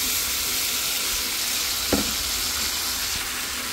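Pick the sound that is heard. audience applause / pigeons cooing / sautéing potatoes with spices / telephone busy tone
sautéing potatoes with spices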